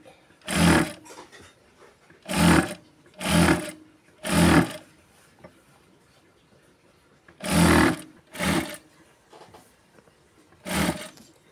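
Sewing machine stitching the hem of a blouse petticoat in short bursts, seven close whirring runs of about half a second to a second each, separated by quiet pauses.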